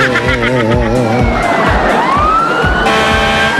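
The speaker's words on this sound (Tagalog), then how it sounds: "Fire truck ba yan, Jose?" A fire truck siren wails loud and close, its pitch sweeping up and down in repeated cycles over an engine rumble on a street during a motorcade.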